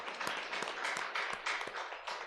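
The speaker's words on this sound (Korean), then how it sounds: "다시 한번 우리 박수로 격려하고 축하하도록 하겠습니다" Congregation clapping at a Korean church graduation and admission thanksgiving service, a short burst of dense applause with distinct individual claps standing out, fairly soft and continuous.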